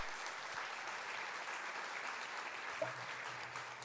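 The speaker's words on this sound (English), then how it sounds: "So a big round of applause for them." Steady audience applause for a university services team at an arts advocacy anniversary event in a theater, filling the clip as an even, dense wash of clapping at moderate distance.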